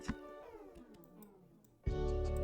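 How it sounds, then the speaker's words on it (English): A cat meows in long drawn-out, wavering cries, one after another, close and clear, followed by a sudden burst of louder noise. "Sounds like a nice cat."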